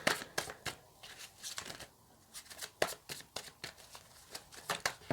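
Tarot cards are shuffled by hand, rapid crisp riffling and slapping bursts in an irregular rhythm, close and clear throughout.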